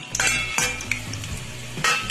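Dried red chillies fry in oil in a pan, a brief close sizzle marked by a few sharp scraping and clattering strokes of a utensil against the cookware.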